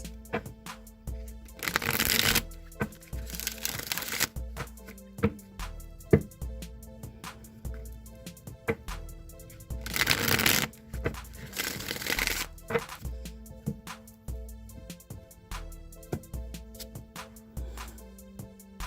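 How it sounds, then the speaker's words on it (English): A Rider-Waite tarot deck being shuffled repeatedly, with bursts of riffling and soft slapping in several rounds, close up, over quiet background music. "I'm just going to shuffle the Rider-Waite deck a few times"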